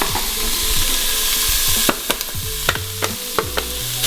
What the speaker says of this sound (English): I'm gonna toss in my lardon.